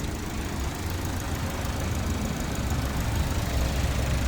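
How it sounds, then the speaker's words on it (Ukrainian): The engine of a 2023 Mini Cooper Countryman idles with a steady, even hum, a low continuous drone that holds at one level throughout, with no voices over it. "Мотор працює ісключительно тихесенько, просто муркотить."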